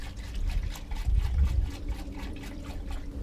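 Red snow foam liquid pours from a jug in a steady, close trickle and splash for a few seconds, continuous with slight surges.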